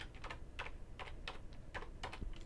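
Keys tapped on a computer keyboard while a folder name is entered, a quick run of about a dozen light, close clicks in uneven bursts, heard alone with no talk.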